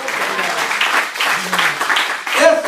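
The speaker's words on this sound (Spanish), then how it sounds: "¿Cuántos le damos un aplauso al Señor Jesucristo y a su nombre?" Church congregation applauding during a service, a dense burst of clapping throughout, close and moderately loud, with a voice briefly heard at the end.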